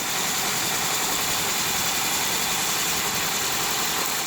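Engine of a 2002 Subaru Impreza WRX with a turbo-back exhaust running steadily at idle, a loud, even drone that holds without change from start to finish and has no voices over it.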